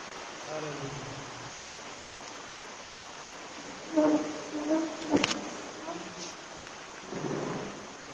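Steady rain falls throughout, with thunder rumbling in the background and a sharp crack partway through.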